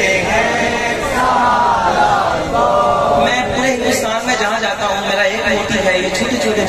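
A crowd chants slogans at a naat gathering in Vaishali Muslim Tola, with many voices rising together loudly and steadily throughout.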